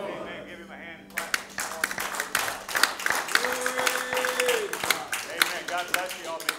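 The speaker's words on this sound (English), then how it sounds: "Give him a hand clap" Congregation at a Sunday church service breaks into hand clapping after a moment of quiet, sharp individual claps building into a lively, uneven round with voices and a sustained musical tone mixed in.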